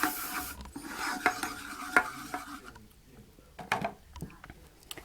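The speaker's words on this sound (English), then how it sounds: "And now I'm going to stir that around." A utensil scrapes and stirs Parsi scrambled eggs around a pan in uneven strokes, with a faint sizzle underneath and quieter pauses between them.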